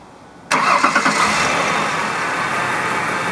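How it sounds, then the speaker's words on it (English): A car engine starts with a multimeter clipped to the battery: a short cranking burst, then the engine catches and settles into a steady, fairly loud idle close by. "So I'm going to go start the car with these attached"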